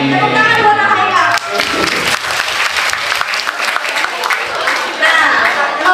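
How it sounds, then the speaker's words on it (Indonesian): Audience at a live talk show claps for a young participant, dense clapping that dips briefly and swells again, with voices and a child's speech mixed in under the applause. "Tepuk tangan buat Haikal."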